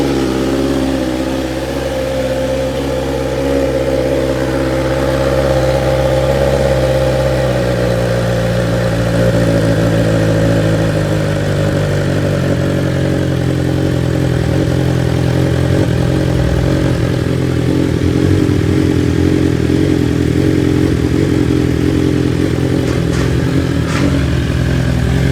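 Motorcycle with a slip-on exhaust and retained catalytic converter, either a BMW S1000XR or a Ducati Scrambler 800, starting and settling into a loud, steady idle with low rumbling tones and slight revving near the end, close and alone.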